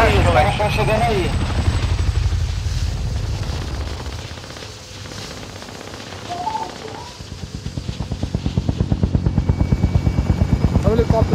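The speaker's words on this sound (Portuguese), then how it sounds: "Olha o helicóptero chegando." Helicopter closing in during a Call of Duty Warzone match, its rotor thump building steadily louder toward the end, with gunfire and game sounds early on and a voice talking over it.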